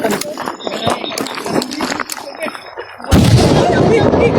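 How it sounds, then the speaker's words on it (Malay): Crackling, popping sounds lead into a sudden loud boom from a homemade cannon that rumbles on afterward, heard outdoors at night. "Serangan meriam kita tembak ke Bukit Runcu."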